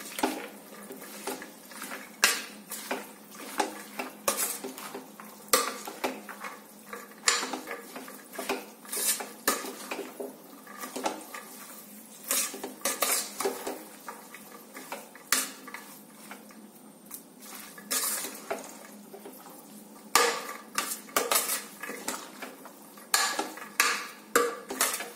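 A spoon stirs salted bhajji batter in a bowl, producing steady, rapid clinks and scrapes against the sides, close and continuous with brief pauses, no talking.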